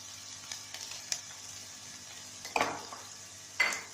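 Chopped onion fries in butter and oil in a pan with a faint, low sizzle, broken by a few brief scrapes and clinks of stirring.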